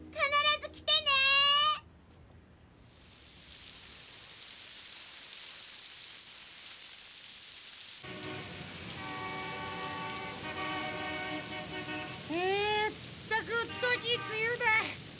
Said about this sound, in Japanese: 梅雨だ。 これでもう5日も続いてるんだから。